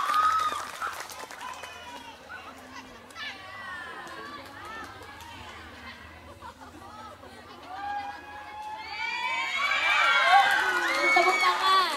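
Crowd of students cheering and clapping at a school silat martial arts demonstration during orientation week, with lively chatter and children shouting that swells louder toward the end.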